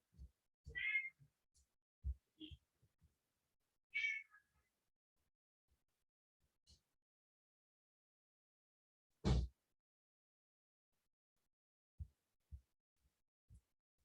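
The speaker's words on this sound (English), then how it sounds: "Bengal cats love to meow." A Bengal cat meows loudly and clearly three times, with soft thumps and taps in the quiet gaps between the calls.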